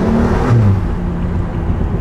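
A BMW M135i accelerating hard while overtaking, with a steady, loud engine drone and a rising tone heard from inside the car, no talk over it.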